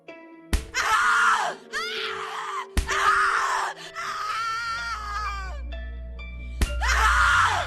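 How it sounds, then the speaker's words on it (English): A woman screams over and over in The Cat Lady horror video game, with loud shrill wails broken by sharp slap-like hits and groaning, close and intense. "Scream louder, little bitch! Scream your lungs out!"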